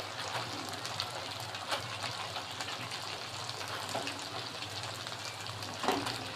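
Chicken pieces fry in a well-cooked spice masala for chicken roast, a steady close sizzle and hiss with soft scraping and occasional stirring clicks throughout, no talking.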